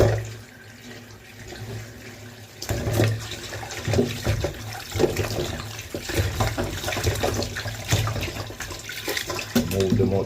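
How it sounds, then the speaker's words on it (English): Water splashes and runs steadily from a tap while cow foot is rinsed, with clattering and rinsing sounds layered over the flow at close range. "Put more running water"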